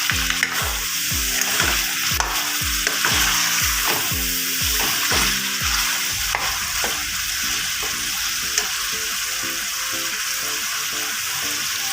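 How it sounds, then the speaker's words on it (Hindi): Mutton karahi fries with soy sauce in a pan, a loud continuous sizzle with a rapid run of rhythmic stirring strokes that fades into looser scraping, heard up close without speech. "उसके बाद हमने 1/2 चम्मच सोया सॉस, बहुत अच्छे तरीके से हमने मिक्स कर लेना"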